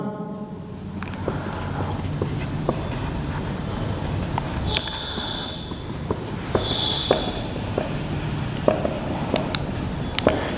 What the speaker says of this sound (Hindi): देखिए मैं सेम लिख रहा हूं।